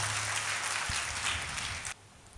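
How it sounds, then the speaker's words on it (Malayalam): Audience clapping together in a hall at a church talk, a dense steady patter of many hands at moderate distance that cuts off sharply near the end. "ഒന്ന് കൈയടിച്ച് കഥാ മാത്രം കൊടുത്തേ നല്ല ഒരു കരഘോഷ കഥാ കൊടുത്തു"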